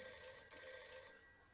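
A voice imitates a ringing telephone bell in a Dhamaal comedy film scene, giving a steady, shrill, buzzing ring that holds for about a second and a half before fading slightly at the end.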